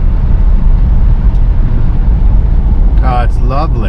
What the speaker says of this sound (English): Downshifted on its own, and we'll accelerate out of this turn